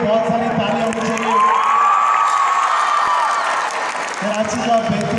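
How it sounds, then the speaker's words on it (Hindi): A crowd at Lucky One Mall in Karachi claps and cheers loudly, with whoops and shouts over the applause and a high sustained tone running through the middle. "मैं चाहता हूँ एक बार लकी वन मॉल के लिए बहुत सारी तालियां होनी चाहिए।"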